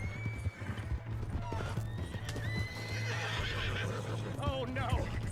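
Horse hooves clip-clop steadily alongside repeated neighs and whinnies in the Western video game Red Dead Redemption 2, with game dialogue and a low music drone running underneath throughout.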